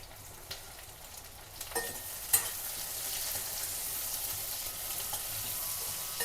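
Butter for a red sauce pasta sizzles steadily in a pan as it is stirred, with a continuous frying hiss and a few faint scrapes and clicks, no voices.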